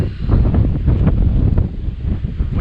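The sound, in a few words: strong wind outdoors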